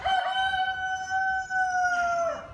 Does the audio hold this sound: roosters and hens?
yes